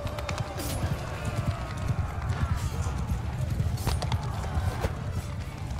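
Cavalry horses gallop in a Bannerlord battle with a steady, busy clatter of many hooves that runs throughout, mixed with battlefield noise.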